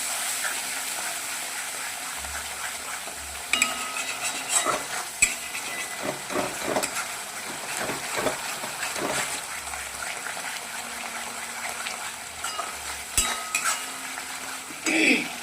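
Thick paste sizzling in hot oil while a spoon stirs and scrapes the pan in irregular strokes, close up, with no talking.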